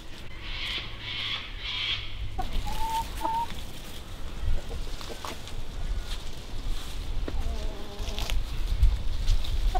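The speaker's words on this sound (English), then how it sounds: "So let's go chat to our bees." European honey bees buzzing around a pair of Warré hives and a top bar hive in a garden apiary, a steady hum with a louder burst of buzzing near the start and birdsong further off.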